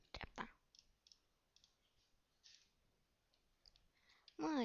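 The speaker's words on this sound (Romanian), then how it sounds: "Fac asta prin click dreapta." A computer mouse being right-clicked while playing Minecraft, a few soft, sharp clicks spread across a quiet stretch, close and brief, ending with a voice starting to speak.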